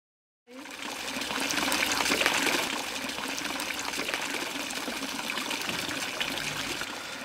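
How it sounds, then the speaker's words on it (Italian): Steady water trickling and splashing from a fountain in a video game, a continuous close wash of flowing water that starts abruptly and holds at an even level throughout. "È incredibile, esca ancora acqua da questa fontana"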